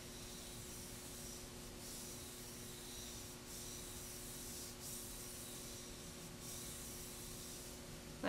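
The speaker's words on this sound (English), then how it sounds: "Move the rosin along the hair slowly." Rosin rubbed slowly along cello bow hair gives a faint, steady scratchy hiss, with soft strokes that swell at regular intervals and no voices.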